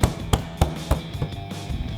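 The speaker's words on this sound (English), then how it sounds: "Give it a good tap." A rear diffuser trim cover on a 2024-2025 Mustang is tapped into place with five sharp, evenly spaced knocks, loud and close, the last ones slightly softer.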